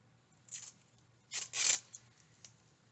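Strapping tape tears off the roll in short ripping pulls, two quick strips followed by a longer one, close and fairly quiet in an otherwise still room.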